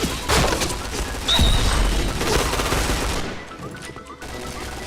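Bursts of rapid gunfire from the shooter game Point Blank rattle loudly and continuously, with a brief impact and quieter shots trailing off.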